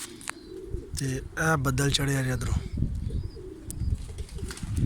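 Pigeons eating grain outside their coop on a rainy day, with close cooing calls and a brief burst of wing flapping, while someone speaks over them.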